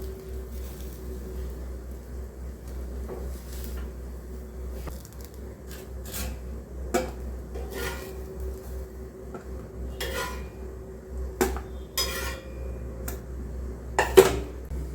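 A cooked egg omelette for egg kulambu is cut into pieces in the pan, giving sparse, irregular metal clinks and taps against cookware over a steady low background hum, with a sharper clink near the end.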